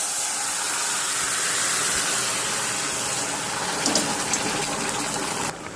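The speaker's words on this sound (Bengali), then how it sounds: "এখন সবজিটা ঢেলে দেবো।" Vegetables (stalks, potato and eggplant) poured into hot oil seasoned with radhuni, cumin, bay leaf and dried chili give a loud, steady hissing sizzle with a brief bubbling surge near the end before it quiets.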